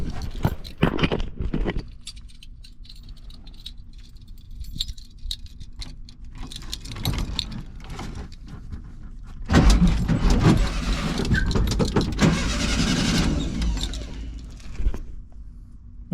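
Old car on rewired ignition, cranked with just the key: keys jangle and click first, then a long quiet pause before the starter churns and the engine catches, running loudly for several seconds before settling.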